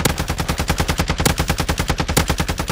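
Sustained automatic gunfire in the shooter game Modern Warfare II DMZ: a loud, continuous stream of rapid, evenly spaced shots for nearly three seconds, with no talking.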